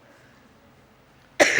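A single sharp cough bursts out abruptly after a near-silent pause, loud and close.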